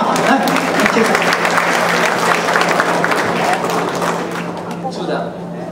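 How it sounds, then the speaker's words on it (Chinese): Loud, sustained applause from an audience at a Chinese-language commemoration event in Atlanta marking the 70th anniversary of the war of resistance, greeting a Georgia Tech professor as he comes up to speak, tapering slightly near the end. "我们掌声欢迎赖教授上来"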